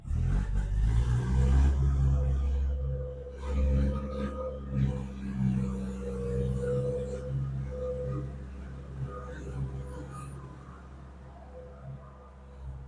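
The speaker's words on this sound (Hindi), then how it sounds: "अरे ट्रैक्टर आ गया, इतना साउंड कर रहा है।" A heavy tractor engine rumbles and clatters nearby, loud at first and gradually fading as it moves away, with a low throbbing drone.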